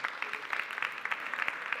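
An audience at a school community event claps steadily, a dense wash of many hands at moderate distance with no pauses.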